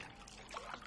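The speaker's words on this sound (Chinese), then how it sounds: "水有点凉了，妈给你加点热水啊" Hot water pours into a child's bath basin, a soft trickling splash that runs briefly and quietly.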